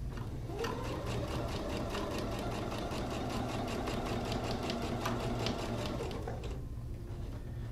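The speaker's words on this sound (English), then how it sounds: "And I'm just going to sew, removing the pins as I go." A home sewing machine runs a steady basting stitch along a fabric makeup kit pocket, a fast even mechanical whir, close and continuous, slowing to a stop near the end.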